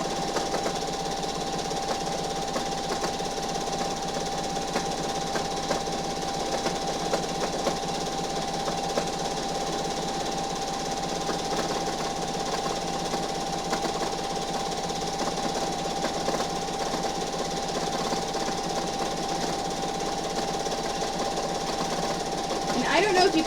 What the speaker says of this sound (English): I don't know if you can hear that popping. That's the needle reacting with the shirt and the different layers because it's stretching.